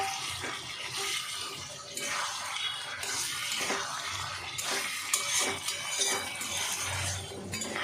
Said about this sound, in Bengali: আমি এবারে ভেজে রাখা পটলগুলো এর মধ্যে দিয়ে দিচ্ছি।